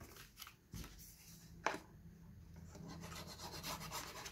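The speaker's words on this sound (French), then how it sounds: "Ok, donc on va coller ça." A glue stick rubs across scrapbook paper for a photo album page, producing close, soft scraping strokes with a brief tap midway and continuous rubbing afterward.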